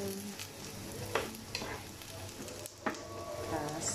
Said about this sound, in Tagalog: prito ko din ito